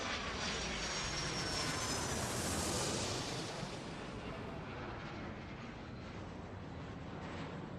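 A jet airplane takes off in the airport control game Airport Madness World Edition, a steady loud engine roar that swells, peaks and then eases slightly while continuing.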